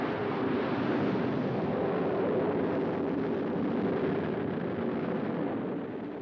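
A sounding-rocket launch into the aurora sends out a steady, loud broadband roar that holds constant throughout, easing slightly toward the end, with no voices over it.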